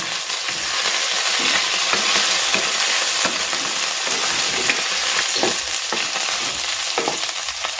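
Chicken sizzles and fries in a hot pan for chicken fried rice, a steady, close crackle with occasional stirring scrapes and no talk.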